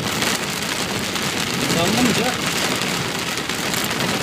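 Steady rain falling on surfaces in Çorlu, a dense continuous patter heard close and loud, with a brief spoken word over it.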